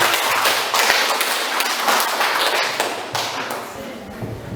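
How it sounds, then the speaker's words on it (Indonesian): Students in a classroom applaud together in a loud, dense burst of clapping that gradually thins and fades toward the end, with some talking underneath. "jadi kita beri aplaus ya. Tepuk tangan."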